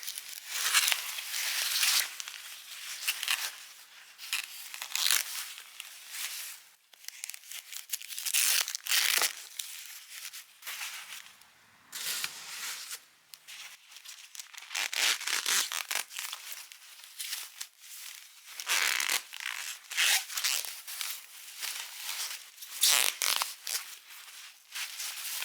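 Plastic packaging crinkles and tears as it is unwrapped from a replacement Galatea doll head, a close, continuous rustling and crackling that lasts throughout with short pauses and no talk.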